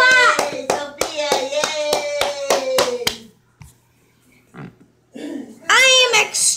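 A child claps her hands about a dozen times in a quick, even burst at close range, pauses briefly, then cheers loudly.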